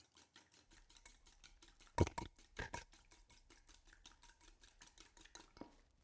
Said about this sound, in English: Give them a whisk.